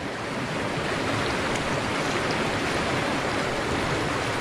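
A gold pan holding clay and water is swirled while prospecting for Yuba gold, giving a steady, continuous wash of sloshing water noise with no talking.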